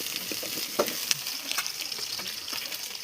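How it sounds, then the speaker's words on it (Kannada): Chopped onion frying in a little oil in a pan, with a steady, fairly faint sizzle and a few light clicks of a stirring utensil. "ಸ್ವಲ್ಪ ಎಣ್ಣೆ ಹಾಕ್ಕೊಂಡು ಇದರಲ್ಲಿ ಒಂದು ಈರುಳ್ಳಿ ಕಟ್ ಮಾಡ್ಕೊಂಡಿರೋದು ಹಾಕೋಣ. ಇದನ್ನು ಚೆನ್ನಾಗಿ ಫ್ರೈ ಮಾಡ್ಕೊಳ್ಳೋಣ"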